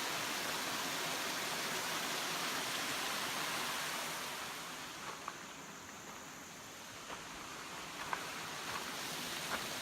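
Steady broadband rush of a river flowing near Moonville Tunnel, a continuous wash of water that dips slightly midway and carries a few faint ticks and clicks, with no voices.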